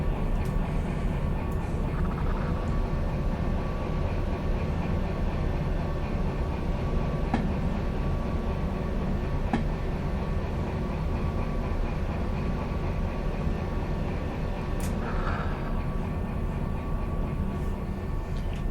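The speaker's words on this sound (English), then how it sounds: "so we'll go ahead and turn our train around" A train running in the video game Derail Valley, a continuous rumbling roll with faint rhythmic clicks and metallic tones, steady and close throughout.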